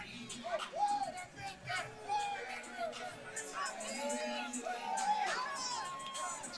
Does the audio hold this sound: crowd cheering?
yes